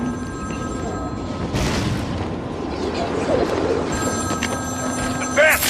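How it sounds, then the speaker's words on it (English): A telephone rings in the video game Batman Arkham City. Two long bursts of steady electronic ringing are split by a pause of about two seconds, set over game ambience with a voice speaking. "Answer my phone and answer it quick, Batman."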